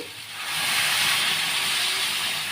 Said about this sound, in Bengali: আমি অল্প করে জল দিচ্ছি